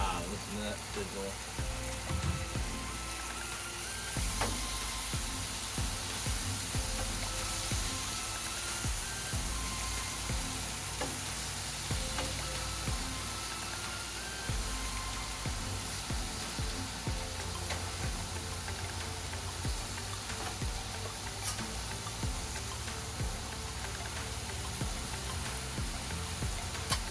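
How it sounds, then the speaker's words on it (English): Steady broadband sizzling of stir-fry with rice frying on a hot Blackstone griddle, continuous and fairly loud, with occasional clinks and faint background noise throughout. "Listen to that sizzle."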